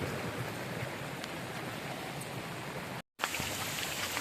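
Steady rain falls continuously as a dense, even hiss, with a brief cut to silence near the end before it resumes.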